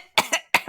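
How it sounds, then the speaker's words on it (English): Two sharp coughs in quick succession, loud and very close to the microphone, each with a brief rasping tail. "Coughs right into the mic."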